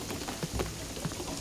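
Heavy rain falls in the video game Shadow of the Tomb Raider, a dense steady downpour with scattered louder drops and a faint low rumble.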